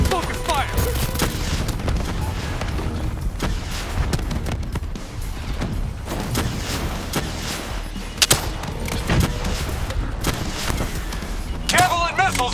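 Dense, continuous gunfire and explosive booms in Call of Duty: Black Ops III, a chaotic loud battle with overlapping shots and occasional sharper blasts.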